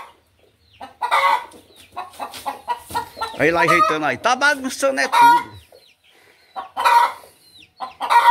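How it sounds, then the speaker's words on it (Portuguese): A hen squawks and a rooster clucks on a tabletop, in loud bursts of cackling and rasping calls with short gaps between. Someone talks over and between the calls. "a galinha gritando"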